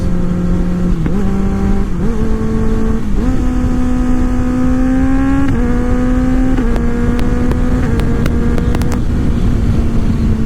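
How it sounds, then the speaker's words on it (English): A 2024 Kawasaki Ninja ZX-6R motorcycle upshifting through its gears with a quick shifter at mid revs, a loud steady engine drone stepping up in pitch with each quick, clean shift, heard close with no talking. "So right there, I went through all the gears with the quick shifter as I was just mid RPM"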